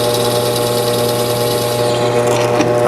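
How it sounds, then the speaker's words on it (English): Power drill with a countersink bit cutting screw holes in a wooden boat seat, a steady loud motor whine running continuously throughout, close up. "I'm countersinking the screw holes that will hold the cleats to the bottom of the seat."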